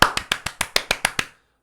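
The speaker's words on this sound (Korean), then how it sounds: "박수 한번 치겠습니다" Nine sharp, evenly spaced claps from a single person ring out close and loud in a quick steady rhythm, then stop abruptly.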